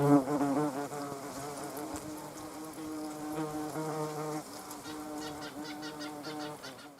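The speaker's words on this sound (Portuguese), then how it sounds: "o que aconteceu com essa vespa infeliz depois que ela encontrou seu destino pegajoso" A wasp trapped in a Venus flytrap buzzes in a steady, quavering drone with shifting pitch, fairly faint and heard alone without any talk.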